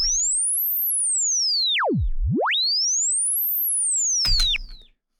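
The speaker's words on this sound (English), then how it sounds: "I play the sine wave one more time and you can hear it." Sine wave test tone, a pure single tone sweeping up, falling steeply to a low note, then rising again, loud and alone before a short burst of broadband noise near the end and silence.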